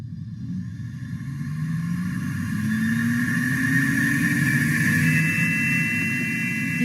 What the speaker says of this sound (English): if you don't and you spin it, there's going to be a really high-pitched sound during centrifugation